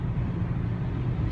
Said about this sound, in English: two big trucks that have come by